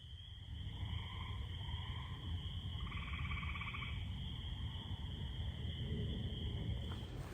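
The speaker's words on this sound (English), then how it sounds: "Just gonna sit here and watch that sunset and listen to the frogs." Frogs call at sunset along the Ice Age Trail in Kettle Moraine State Forest, a faint chorus of trilling and pulsed calls rising over steady outdoor background noise, with no talking.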